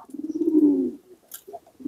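A pigeon gives a rolling, swelling coo lasting about a second, close and clear, followed by a few softer broken coos and another beginning.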